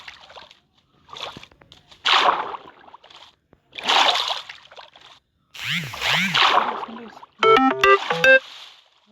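Water splashing in the Minecraft horror mode game comes in several loud bursts spread across the clip, mixed with other game sounds and short tonal notes near the end.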